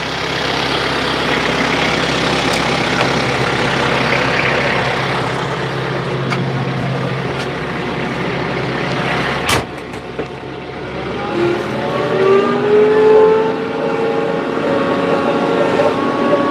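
Farm tractor engine running nearby during fence-line work, a steady continuous rumble with a few sharp knocks and a shifting tone toward the end.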